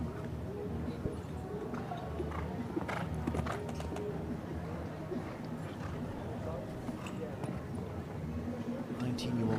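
Hooves of a 19-year-old stallion at an equestrian show jumping event, a rhythmic clip-clop of footfalls on the course with a commentator talking over it and crowd ambience behind.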